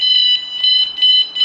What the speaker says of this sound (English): final beeps, lets you know that it's set